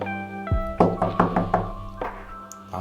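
Several firm knocks on an apartment door, a quick run of evenly spaced raps followed by one more knock, close and fairly loud in a quiet hallway.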